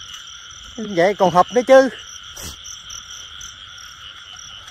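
A frog calls in a short run of rapid, pulsing croaks during a night hunt for frogs, set against a steady, high insect drone, with a brief voice breaking in afterward.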